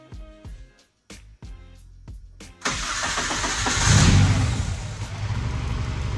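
A K-series car engine cranks with a few sharp clicks, then catches and runs steadily nearby, fuel injector ticking riding over the quiet idle.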